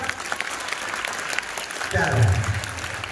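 A class of students claps vigorously after a yoga demonstration, a continuous crackle of many hands that grows louder partway through, with a voice speaking over it.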